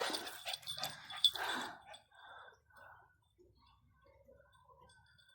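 A dog whimpers and yips in short, high bursts, fading to faint whines near the end; close by and fairly quiet.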